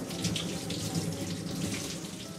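A kitchen faucet runs steadily over a chayote squash being rinsed, a close, even rush of water splashing into the sink with no speech.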